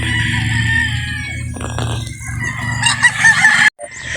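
Loud, close rooster sounds with a long strained crowing call over a low rumbling background, ending with a brief drop to silence.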